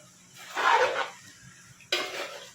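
A spatula scrapes and stirs seafood pansit canton in a pan, two distinct scraping strokes with a faint sizzle beneath and a pause between them.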